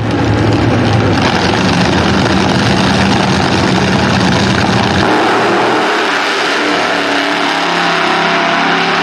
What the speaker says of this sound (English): These cars are just animals accelerating.